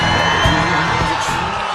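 A large crowd at a Donald Trump rally in Portsmouth, New Hampshire, roaring with cheers, whoops and yells in a dense, loud, continuous wash.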